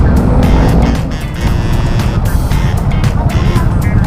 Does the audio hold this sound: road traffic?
yes